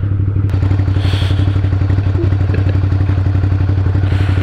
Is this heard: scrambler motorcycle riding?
yes